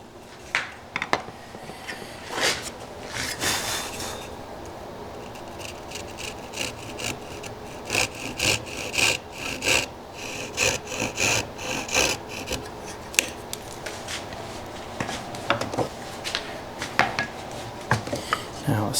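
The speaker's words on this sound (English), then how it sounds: "Cut my little chamfer against the line." A hand saw cuts a small chamfer on the edge of a wooden workpiece in a woodworking shop, giving repeated rasping strokes in an uneven rhythm, close and moderately loud, with a few clinks of tools in between.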